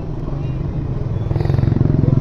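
A motorcycle carrying an elderly woman riding pillion putters along close by. Its engine note builds into a faster, rhythmic pulsing toward the end.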